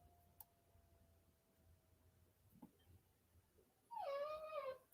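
After a few quiet seconds with faint ticks, a dog lets out a short, high-pitched whine nearby.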